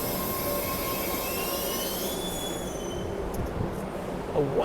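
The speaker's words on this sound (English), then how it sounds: "There's the train." A commuter train rolls past with its wheels squealing in long, high-pitched metallic tones over a constant loud rumble of rail noise. No one speaks.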